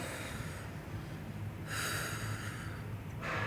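A slow exhale during a Pilates mat roll down, a breathy airy rush that rises in two waves, close and alone without talk.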